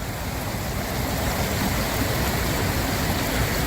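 Raging water roars like a waterfall during a hurricane in Hawaii, a dense, steady, loud wash of rushing noise with no voices.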